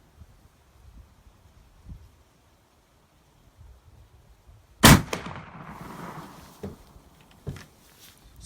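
A single sharp, loud gunshot rings out from a Rosler rifle after a reload, preceded by quiet handling and followed by a short echoing tail and a few faint clicks.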